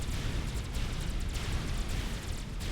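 Rumbling explosions from the strategy game Supreme Commander: Forged Alliance roll on continuously, a dense low booming with crackling bursts, loud and sustained without pause.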